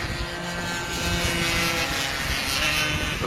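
A Piaggio Zip 77cc racing scooter at Pembrey stock-class qualifying makes a continuous buzzing engine drone at moderate distance, steady and unbroken.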